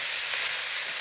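Onions and chopped vegetables sizzle steadily in hot olive oil in a pan, a loud, even hiss that runs without a break.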